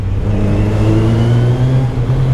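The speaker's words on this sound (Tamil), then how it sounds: "இப்போ இந்த அண்டர் பாஸில் பார்த்தீங்கன்னா நம்ம வண்டியோட சவுண்டு பார்த்தீங்கன்னா வேறு மாதிரி இருக்கும்" A Kawasaki Ninja 1000SX motorcycle revs in an underpass at night, its loud, close exhaust note rising and holding as the sound echoes off the enclosed walls, with no voices.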